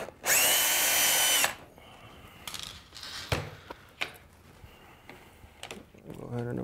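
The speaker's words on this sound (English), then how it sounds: "So I'm gonna go ahead and unscrew that and give myself more room to work." A power screwdriver whirs in one loud burst at the start as it backs out a screw from the ESC plate of an 8x8 RC monster truck, followed by quieter clicks and handling noises.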